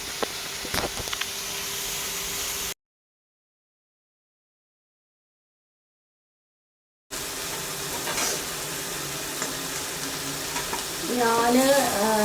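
Chicken frying in a pan with onions for Kerala-style chicken perattu, a steady hiss and sizzle with stirring, cut by a gap of silence, then resuming with faint water-like noise near the end.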